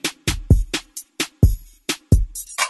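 A metal detector signal sounds as a series of about nine sharp, punchy beeps in a steady, slightly uneven rhythm, loud and close, with a brief noisy tail at the end.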